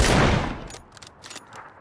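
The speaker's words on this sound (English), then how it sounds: "Obviously, we hear the gunshots down below." A loud burst of gunfire in PlayerUnknown's Battlegrounds opens the clip, followed by a few fainter scattered shots further off.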